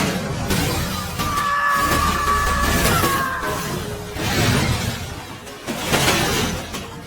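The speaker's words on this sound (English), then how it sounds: "The car sped off, swerving wildly until it crashed into a house." A swerving car slams into a house, a loud crash with glass shattering and debris clattering, followed by further impacts and rumbling, with no voices.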